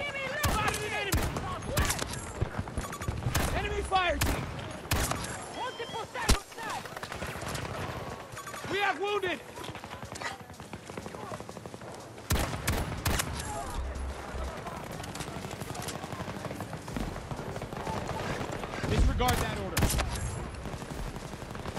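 Bursts of BFP.50 secondary pistol fire in Battlefield 2042, sharp close shots in uneven clusters over busy battlefield noise and distant gunfire, with a voice talking at times.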